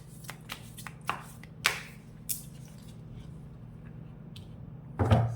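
Tarot cards are shuffled by hand in a quiet room, giving a run of soft riffling flicks and taps. A louder clatter near the end sounds like several cards spilling out of the deck.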